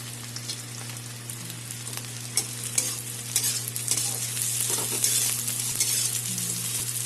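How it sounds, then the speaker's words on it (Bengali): Cashew nuts frying with browned onions in a pan give a continuous sizzle that builds slightly over time, with repeated scraping and clinking of a spoon stirring against the pan, close and fairly loud. "আমার পেঁয়াজ ভাজা হয়ে এসেছে, এখন বাদামটা দিয়ে দেবো, কাজু বাদাম"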